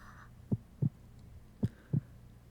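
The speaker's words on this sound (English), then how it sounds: "The sound of my heartbeat, of the blood rushing, buzzed in my ear" A heartbeat sound effect in the visual novel Aoi Shiro gives two deep lub-dub pairs of thumps, loud and close, evenly spaced over a quiet low hum.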